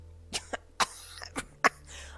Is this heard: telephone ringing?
no